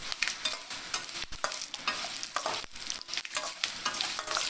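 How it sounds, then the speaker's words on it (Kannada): Jaggery and grated coconut stir-fried in a pan after tempering, with close, steady sizzling broken by repeated scraping strokes of a spoon against the pan, no voices. "ಬೆಲ್ಲ ಹಾಕಿ ತೆಂಗಿನಕಾಯಿ ಹಾಕಿ ಅದನ್ನು ಸ್ವಲ್ಪ ಹುರಿದು"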